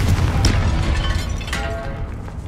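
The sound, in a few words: Confringo explosion spell in the Hogwarts Legacy video game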